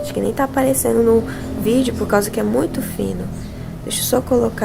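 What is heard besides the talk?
No everyday noises stand out.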